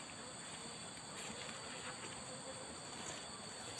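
Dense, steady buzzing of many Asian honey bees (Apis cerana) swarming close by at a nest entrance in a rock hole, continuous and fairly loud with no breaks, over a faint background hiss.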